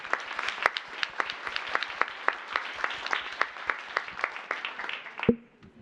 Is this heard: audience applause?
yes